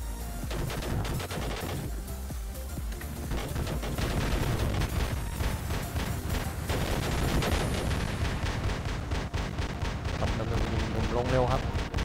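A new medium-class prototype weapon fires in the War Robots mech game on the test server, with a loud, sustained barrage of rapid shots and heavy booming impacts running throughout.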